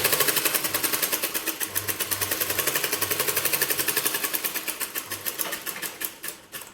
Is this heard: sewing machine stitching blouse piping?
yes